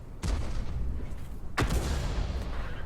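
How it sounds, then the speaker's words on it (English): Artillery guns firing in the World of Tanks tank game: two loud booming shots about a second and a half apart, each with a rumbling decay, over steady battlefield ambience. "each individual artillery has a fairly long time to wait between their shots."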